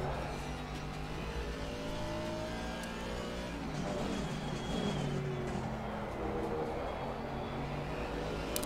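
A race car engine in a racing video game drones and revs steadily on track, shifting pitch as it accelerates, heard fairly faint and continuous with a voice talking over it.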